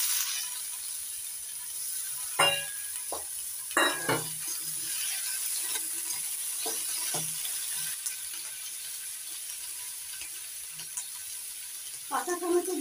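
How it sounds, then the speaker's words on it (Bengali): Chopped raw tomato goes into a pan of frying potatoes, setting off a steady sizzle punctuated by several sharp scraping stirs and clatters of a spatula against the pan, fairly close and with no talking. "এবার দিয়ে দিচ্ছি কেটে নেওয়া কাঁচা টমেটো।"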